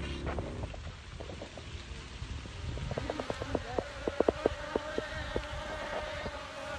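A dense, steady insect buzz with many overlapping drones, fairly faint and continuous, with occasional closer passes rising above the hum.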